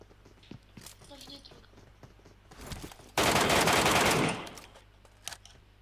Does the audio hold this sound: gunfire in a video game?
yes